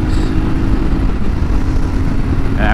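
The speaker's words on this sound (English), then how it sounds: "Let's give it some revs." A Honda CB250RS motorcycle is revved hard during an overtake on an open road, its engine droning loud and steady under heavy wind rush, with no talk over it.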